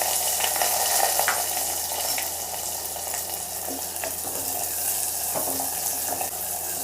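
Chopped onion fries in a pan with a steady, close hiss of sizzling oil throughout, with a few faint clinks and scrapes and no talking.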